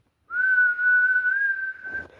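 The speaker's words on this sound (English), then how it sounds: "an awful whistling sound is heard" A steam engine's whistle sounds one long, steady, shrill note held for almost two seconds, clear and alone, trailing off into faint noise.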